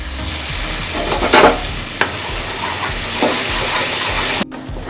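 Blended papaya is stirred in ghee in a pan over medium flame for papaya halwa, giving a steady close sizzle with a few louder scraping strokes, and the sound stops abruptly near the end. No one speaks.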